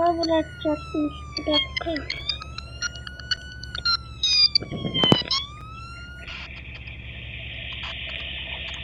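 A wailing ambulance siren sweeps up and down at a distance, with brief voices and a loud clatter midway, then a steady electronic tone.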